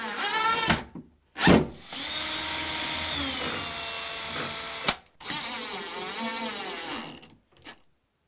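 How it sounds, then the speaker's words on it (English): Power drill pre-drilling a hinge hole in a wooden shaker-style cabinet door: two sustained whirring bursts of several seconds each, with short blips before and after, close and loud. "Then I can pre-drill in here,"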